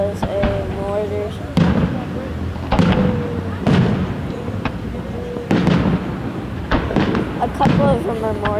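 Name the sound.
fireworks mortars exploding, July 4th display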